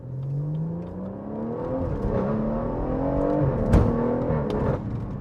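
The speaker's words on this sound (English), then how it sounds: "It is the best sounding engine I've had in a while." A BMW M140i's engine and exhaust rev hard, the pitch climbing in smooth sweeps with a loud crackle near the end, close and alone without talk.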